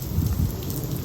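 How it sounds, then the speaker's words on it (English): Heavy rain pours down outdoors in a dense, steady roar of drops hitting surfaces, continuous and fairly loud with no voices over it. "Uh-oh, I hear rain."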